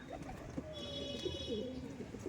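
Pigeons coo softly in a loft, a few low bubbling calls overlapping at a moderate distance, with a thin high tone and faint room murmur behind them.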